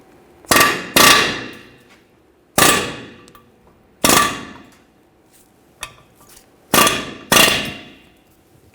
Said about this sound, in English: To get the rivet off, I'm just going to chisel it off from this side with an air hammer.